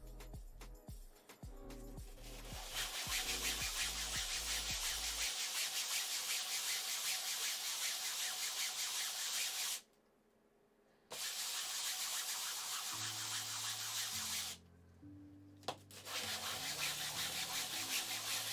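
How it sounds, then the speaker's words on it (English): Wood pieces being sanded by hand to knock down raised grain on a custom build, with long steady hissing scrubbing strokes broken by two brief pauses, close and alone without talk. "for these bits, we want to try and get rid of some of this grain. So we're just kind of sanding them down just a tiny touch"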